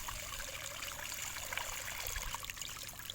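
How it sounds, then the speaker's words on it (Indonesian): Used motor oil poured into a stream of flowing water beside a rice field, heard as a steady, close trickling and splashing wash with no breaks. "Ini olinya, minyak oli bekas ini teman, kita tuangkan di air mengalir ini ya"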